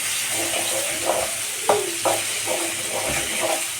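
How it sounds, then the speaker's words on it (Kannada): Tomatoes, onions and chillies stirred in a pan over low heat, a steady sizzle broken by a few scraping strokes of the spoon, close and alone with no talk. "ಇದನ್ನ ನೀಟಾಗಿ ಮಿಕ್ಸ್ ಮಾಡ್ಕೊತಾ ಸಣ್ಣ ಉರಿ ಒಳಗೆ ಸ್ವಲ್ಪ ಬೇಯಿಸ್ಬೇಕ್ರಿ"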